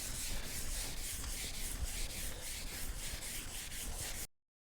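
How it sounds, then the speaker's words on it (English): Steady abrasive rubbing of 1000 grit sandpaper scuffing a dented car fender during dent repair, a continuous close hiss with a faint rhythmic stroke pattern that stops abruptly near the end. "I'll scuff over this with 1000 grit."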